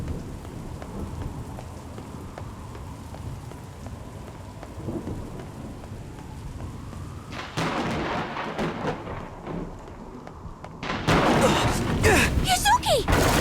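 Thunderstorm in the video game Nier Reincarnation among tall city buildings: steady rain hiss with low rumbling, swelling into louder bursts of heavy rain and thunder cracks toward the end.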